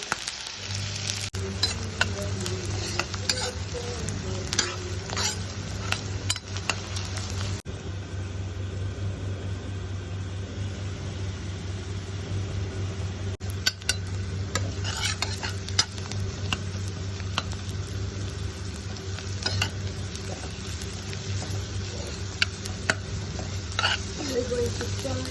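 Pieces of bitter gourd (karela) fry in a pan with a steady, quiet sizzle, and clinks and scrapes from stirring come and go throughout.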